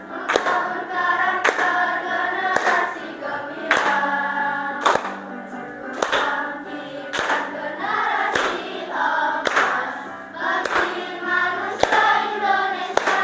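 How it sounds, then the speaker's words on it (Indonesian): Regular group hand claps from a class beat a steady rhythm, roughly every second, while everyone sings together loudly in unison. "Pakai tepuk tangan ya."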